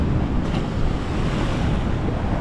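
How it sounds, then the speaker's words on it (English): Ocean surf washing up on a shore at dawn, a dense continuous roar of water and wind buffeting close to the microphone, with no voices. "When the wave comes up and there's lots of water there"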